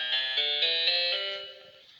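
MIDI notes entered as quaver time values in the Qwikkey app, a short run of bright synthetic tones stepping evenly in quick succession, clear and alone, fading toward the end.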